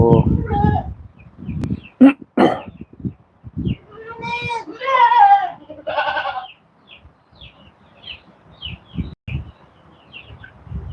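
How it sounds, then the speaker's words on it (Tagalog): Goats bleating on a farm with a herd of more than eighty animals, several overlapping wavering calls at mid distance, interspersed with someone talking. "Mga 80 plus na po ito yung ating kambing sa ngayon guys"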